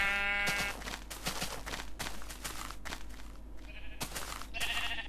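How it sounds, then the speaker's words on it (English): A sheep in Minecraft bleats loudly at the start and again near the end, with soft crunchy footsteps and shuffling in between. "Hello, Mr. Sheep."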